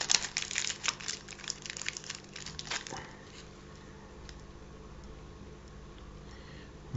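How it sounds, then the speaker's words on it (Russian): Faint crinkling and rustling of a small plastic packaging bag being opened around a soldering iron tip, busy for about three seconds and then fading to quiet. "да что же он так запакован в этот пакетик"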